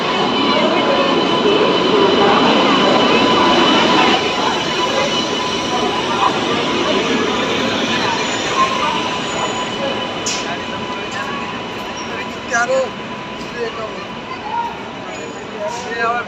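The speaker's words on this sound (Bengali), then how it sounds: "ট্রেন এসে গেছে আমাদের।" A train rolls in on an Indian railway platform on the New Delhi to Kolkata route, a loud steady rumble with faint wheel squeal that slowly eases off, under crowd murmur on the platform.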